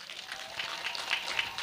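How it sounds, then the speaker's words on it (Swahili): An outdoor crowd at a political campaign launch rally in Tanzania applauds steadily, a dense patter of clapping that stays fairly even throughout. "Mpigeni makofi jamani"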